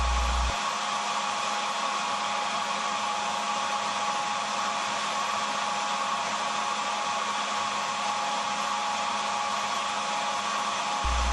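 A hair dryer runs continuously at a steady, loud whooshing level, close by and unbroken, heating a Whirlpool clothes dryer's thermistor.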